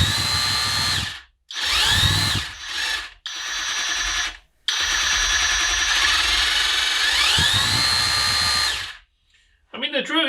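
Loud cordless hammer drill bursts into a concrete wall, several runs starting and stopping with short pauses, the motor whining up and down in pitch.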